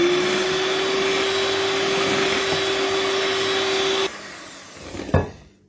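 An electric mixer whirs steadily at close range as it beats an egg and sugar batter for khobz el bey, a cream bread, then slows and cuts off with a brief clatter near the end.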